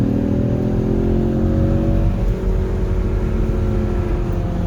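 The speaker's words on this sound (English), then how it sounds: "It is a 4-cylinder, but you can hear the car" The four-cylinder EcoBoost engine of a 2019 Ford Mustang convertible drones loudly and continuously as the car pulls along, its steady hum shifting slightly in pitch.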